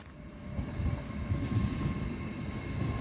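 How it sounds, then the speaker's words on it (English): An LNER class 801 train arrives at a platform at Doncaster as a low, steady rumble of wheels and traction with faint tonal whines above, continuous and moderately close. "Now arriving on platform 4 is the 1305 LNER Zoomer service to York"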